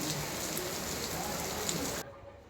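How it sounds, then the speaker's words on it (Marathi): Heavy monsoon rain in Mumbai pours down in a steady, dense hiss that continues unbroken, then drops noticeably quieter near the end. "हे बघा कंटिन्यू पाऊस येत आहे भरपूर पाऊस आहे"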